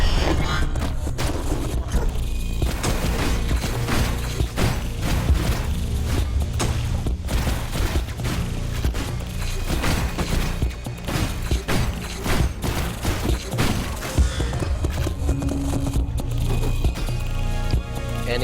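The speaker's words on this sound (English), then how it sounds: "what I'm going to do is fire my shotgun, swing the sword, switch weapons twice, and then repeat that process" Shotgun blasts and sword swings against a boss in the video game Hyper Light Drifter, dense rapid thuds, booms and swishes pounding continuously and loudly amid layered combat noise.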